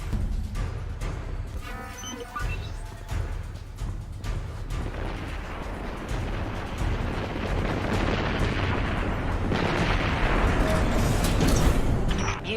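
A big cannon fires in Destiny 2's Red War campaign, a mechanical charge-up with clicks giving way to a deep, swelling rumbling roar that grows louder toward the end, heavy and close.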